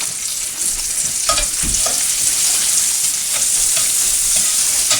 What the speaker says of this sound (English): And you kind of got your frying type effect going on.